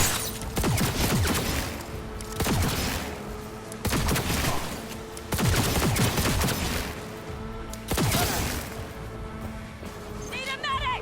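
Repeated bursts of gunfire in Cyberpunk 2077, loud rapid volleys arriving every second or two, with game voices shouting over the shooting.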